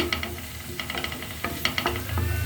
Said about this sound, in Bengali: পেঁয়াজ রসুন দিয়ে দিয়েছি এখন আমি সুন্দর করে এটা রান্না করব আগে একটু ভেজে নিব